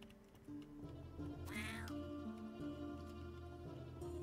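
A cat in the video game YIIK gives a single clear, fairly close meow amid looping game music and tones, with no talk over it.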